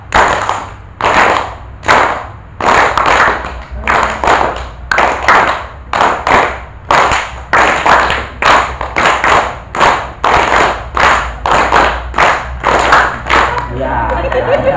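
A group of students claps a tepuk rhythm together, with sharp, loud clap bursts in a steady repeating pattern of quick doubles and triples, close and energetic, with faint voices between the beats.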